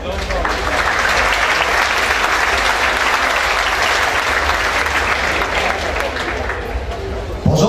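Sustained applause from an indoor audience at a Dutch village harvest festival, welcoming the harvest queen and her two court ladies; steady loud clapping throughout, a faint voice near the end.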